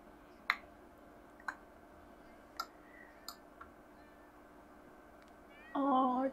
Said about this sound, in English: Oh, our cat is here.